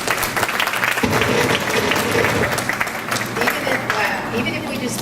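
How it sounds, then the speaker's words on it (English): A roomful of people applauds the presenters at a school district event on drug-use trends, steady dense clapping filling the hall, with a voice talking over it partway through. "Let's give all of these presenters a round of applause."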